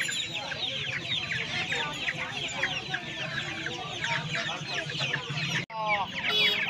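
Chickens at the Uluberia poultry market cluck and chatter nonstop in a dense, close flock, with sharp calls overlapping throughout and a brief break near the end before the clucking resumes.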